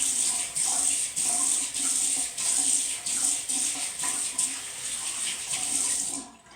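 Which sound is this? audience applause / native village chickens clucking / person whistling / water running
water running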